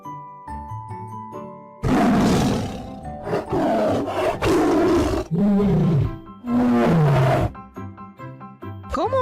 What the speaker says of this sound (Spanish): El tigre hace...